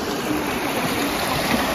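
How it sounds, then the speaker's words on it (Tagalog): Mountain stream water flowing steadily in a continuous broadband rush, close and even throughout, with no voices over it. "Ang agos ng tubig."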